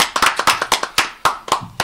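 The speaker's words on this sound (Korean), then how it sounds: "박수 칩시다" Audience clapping at the founding press conference of a citizens' group, a small crowd giving sharp, irregular claps that land in a quick uneven patter for about two seconds, close and fairly loud, with no voices over it.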